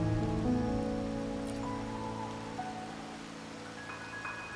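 Steady rain falls in the Wuthering Waves video game, a constant wash of droplets that holds at a moderate level beneath soft tonal music throughout, with no voices.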